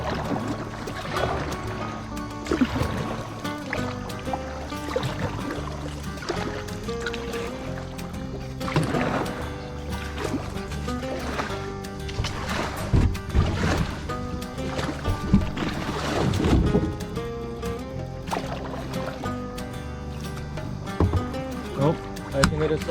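A kayak is paddled along Cedar Creek, with continuous water splashing and sloshing against the hull, heard close up beneath intermittent talk.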